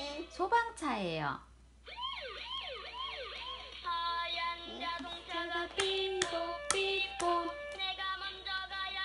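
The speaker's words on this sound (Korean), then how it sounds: "소방차예요." A close, toy-like fire truck siren from a Pinkfong children's sound book wails in rising and falling sweeps, then shifts into bright electronic beeping tones with a few claps.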